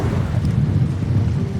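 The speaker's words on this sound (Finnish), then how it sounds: "Edelleen tää tuuli on aika kova tässä." Strong wind buffets the microphone out on a lake during a fishing trip, producing a low, steady roaring rumble with no voices.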